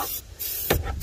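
Amsoil Mudslinger hisses from a spray can onto an old snowmobile in two or three short close bursts, with quiet pauses between them.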